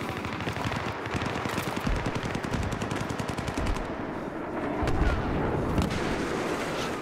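Rapid automatic weapon fire from a Battlefield 3 multiplayer match rattles on in long loud bursts, with heavier booming blasts near the end.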